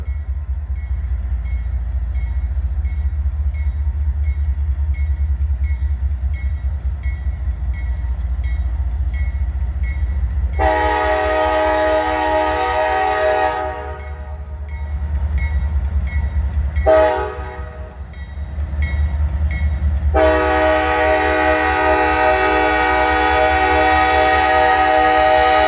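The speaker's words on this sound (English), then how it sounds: "This train could be getting ready to stop." A slow-moving CSX freight train rumbles steadily past in Wartrace, Tennessee, its low drone continuous while the loud multi-tone horn sounds in three blasts, two long and one short, close by.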